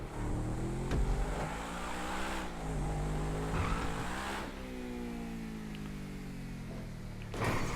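A supercar engine in the Stunt Race video game, driven through a tight garage, drones loud and steady with rising and falling revs, occasional tire squeals and scrapes breaking through the continuous roar.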